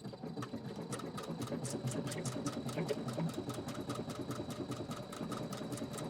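Sewing machine stitching over couched cords for a quilted pillow, a rapid, regular clatter of needle strokes with a faint motor hum, heard up close and steady, quiet overall.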